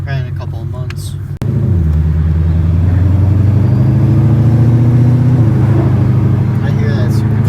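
A 2021 Ford GT500 accelerating hard from inside the cabin, a sharp crack followed by a loud, deep engine roar climbing steadily in pitch, with a shift near the end and people talking over it.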